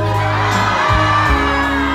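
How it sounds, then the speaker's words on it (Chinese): A crowd at a performance screams and cheers in a loud, sustained wash of voices, with a sharp dip and swell in the middle of the brief burst. "你聽到前面，右手邊嘅尖叫聲最大"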